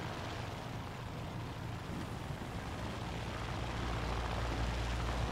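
Steady low propeller aircraft engine drone in War Thunder, a continuous rumbling hum that grows slightly louder toward the end, with no talk over it.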